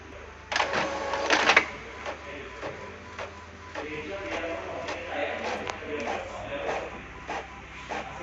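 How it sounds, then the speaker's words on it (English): An Epson printer printing a page, with a burst of mechanical clatter at the start followed by repeated soft clicks and whirring feed noises at a moderate level. "Now I should showing you how printer is ready to print."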